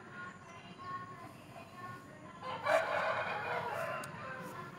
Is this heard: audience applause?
no